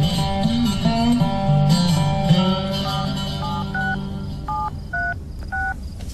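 A telephone is dialed in a string of distinct tone beeps, some long and some short, set against a low background hum and indistinct voices early on.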